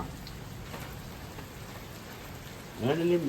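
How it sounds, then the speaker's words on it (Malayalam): Steady, soft rain hissing without a break during a thunderstorm in Malappuram, Kerala, with a person briefly starting to speak near the end. "അടുത്ത മഴ പെയ്യും."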